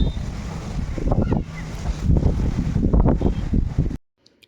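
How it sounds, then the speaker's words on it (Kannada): Strong wind buffets the microphone in loud, rough gusts, then cuts off abruptly near the end. "ಫುಲ್ ಗಾಳಿ ಬೀಸ್ತಾ ಇದೆ."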